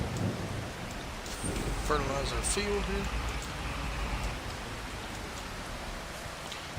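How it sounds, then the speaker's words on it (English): Steady rain in Farming Simulator 25 hisses as a broad wash under a man's speech, with faint low rumbles that may be thunder. "yay, it's raining, but that doesn't matter for planting"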